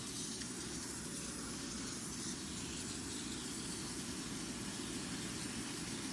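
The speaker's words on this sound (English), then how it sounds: "Give it a good spray all around the border." Continuous hissing spray of insecticide from a pressurized sprayer around a yellowjacket ground nest, steady and close, with a faint mechanical hum underneath and no talking.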